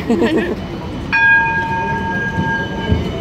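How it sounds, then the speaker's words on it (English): Rumbling ride aboard a tram in Melbourne, Australia, with steady low rolling noise and a bright sustained tonal squeal or chime starting about a third of the way in, voices faint. "but we're on a tram"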